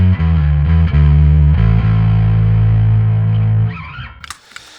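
Electric bass driven through a Boss ODB-3 bass overdrive pedal with the blend closer to the dry signal and more drive, a few loud distorted notes ringing out alone before decaying into faint handling clicks.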